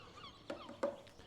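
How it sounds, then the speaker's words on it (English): A bird gives goose-like honking calls on a simulated golf course, two short, faint honks a fraction of a second apart over quiet ambience. "Man, that bird is on a roll."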